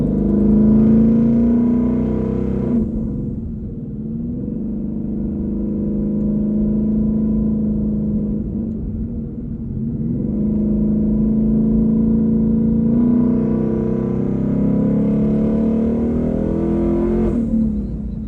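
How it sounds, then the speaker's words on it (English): A twin-turbo 2020 Ford Mustang Shelby GT500 with a TH400 transmission revs hard and accelerates through several gear changes, its loud droning pitch climbing, dropping at each shift, then climbing again. "This car just makes the right noises."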